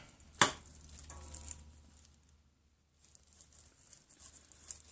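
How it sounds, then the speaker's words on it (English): A single crisp snip cuts a dead, stringy Phalaenopsis orchid root during repotting, followed by faint rustling and handling sounds in a quiet room. "We'll chop that little stringy bit off."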